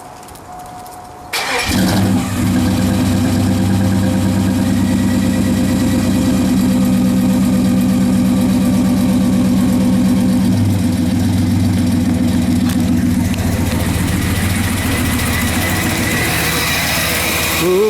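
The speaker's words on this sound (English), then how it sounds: "So I'm gonna go ahead and cycle the key, push some fuel through, see if I don't have any leaks, and I'm gonna start her up." A 2000 Chevrolet Silverado SS with a new intake and headers cranks briefly and fires up. It settles into a loud, steady, rumbling idle that continues up close for the rest of the clip.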